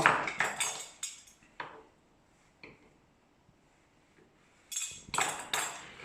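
A knife slices through a pineapple on a worktop, giving several clinking, knocking cuts in two bursts with a quiet pause between them.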